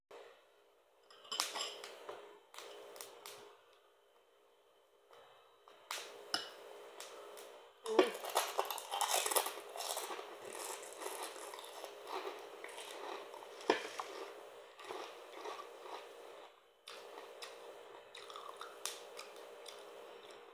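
Someone bites and chews crunchy garlic chicharon, crisp crackling crunches in bursts with short pauses between, close and fairly quiet, alone without talk.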